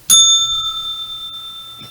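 A single bright bell ding, a closing-bell chime marking the end of a trading broadcast, strikes once and rings on with a steady, clear decaying tone for about two seconds. It sounds alone, with a faint low rumble beneath it.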